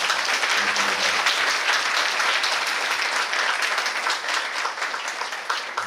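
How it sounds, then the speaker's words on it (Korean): Sustained applause from a church congregation at a Sunday service, steady and full for several seconds, with no voices standing out. "우리 한 번 더 감사한 거 박수해 주시면 좋겠습니다."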